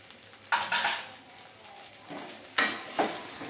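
A spoon stirs sabudana khichdi in a pan, giving a few close, sharp metallic clinks and scrapes spaced apart, with quiet pauses between and no talking.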